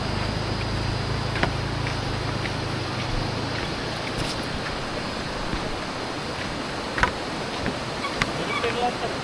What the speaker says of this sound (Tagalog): Ang ganda ng ilog. Lakas ng tubig.